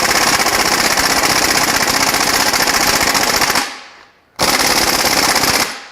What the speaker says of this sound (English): Now we'll try the big bolt, the big impact here